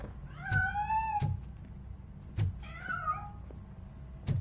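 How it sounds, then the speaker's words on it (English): A cat meows twice in RoboCop: Rogue City, each call a rising, tonal wail of about a second, clear and fairly close, with dull thumps and game ambience underneath and no speech. "That cat must be hiding inside."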